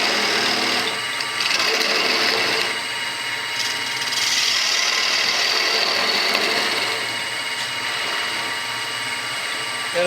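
A mortising machine cuts a mortise into wood, giving a steady, close motor drone with a humming whine that swells and eases as the chisel works, continuous for about ten seconds.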